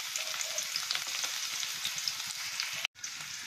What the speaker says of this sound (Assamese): তেল গৰম হৈ গ'ল এতিয়া মই ইয়াতে মিহিকৈ কাটি লোৱা পিয়াজ দিছো